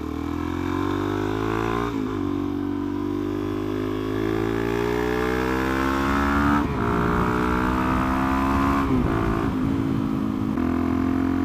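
A motorcycle engine drones steadily up close as the bike is ridden, its pitch climbing through the revs and dropping briefly at a few gear changes, loud and continuous with no talk.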